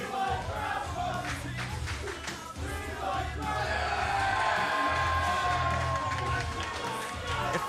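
A wrestling crowd at a live rassling show roars and cheers steadily throughout, a dense wash of voices with whoops rising above it, while commentators talk over the noise.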